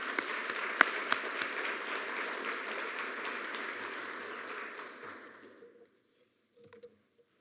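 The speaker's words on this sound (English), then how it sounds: "So if we may, just another round of applause for Thomas." An award ceremony audience giving a round of applause for Thomas, a full, even clapping that swells and then tapers off, fading into near silence before a few faint stray sounds.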